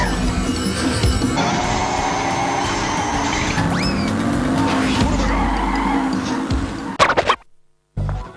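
Karts racing in a space-themed Crash Bandicoot kart racing video game, with loud continuous engine whine, tire squeals and skids layered with game effects and music, ending abruptly in a brief silence.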